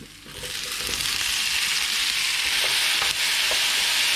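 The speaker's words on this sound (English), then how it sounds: "Put in the asparagus." Asparagus tossed into a hot wok with garlic and beef, a loud steady sizzle that swells as it lands, with light scraping stir strokes, close up and without talk.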